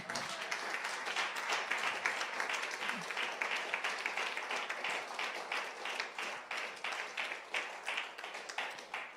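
Church congregation acclaims the Lord with steady rhythmic clapping, a dense rapid pulse of hand claps that continues evenly throughout, with voices faintly mixed in.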